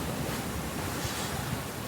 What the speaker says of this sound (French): Il y a des vagues, il y a des belles vagues.